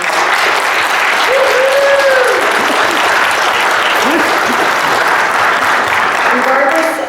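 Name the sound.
audience applause for school district educators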